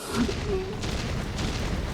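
An explosion in the video game Hollow Knight: Silksong, a deep rumbling boom followed by continued low-frequency rumble and crackle, loud and dense with no distinct speech.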